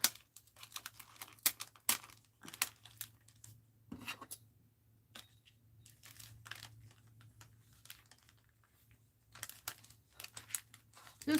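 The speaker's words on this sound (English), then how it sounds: "And I already taped this down. I need to pull it up again." Taped-down paper being peeled back up in a mixed-media mail art journal, a series of close, crackly ripping and crinkling bursts separated by quiet pauses over a low steady hum.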